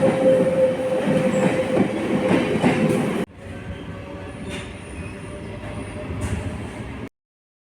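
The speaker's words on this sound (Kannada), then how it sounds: "ಇವಾಗ ಟ್ರೈನ್ ಬಂತು." A train arrives at a station in Bangalore, and its loud rumble and squealing wheels build close by. The sound then drops into a quieter, steady rolling clatter before it cuts off.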